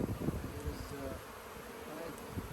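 Honey bees buzz around an opened hive during a hive split, a dense, steady, close swarm hum with no talking.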